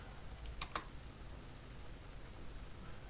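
Two quick keystrokes on a computer keyboard enter a trim shortcut in CAD software, crisp clicks near the start of a quiet room with faint background hiss.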